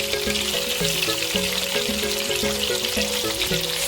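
Homemade meatballs frying in oil in a pan, a steady loud sizzle and crackle running throughout, close up with no talking.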